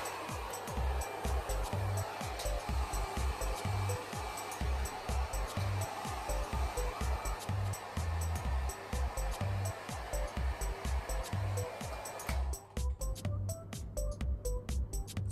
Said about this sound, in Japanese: ドライヤーを当てていきます。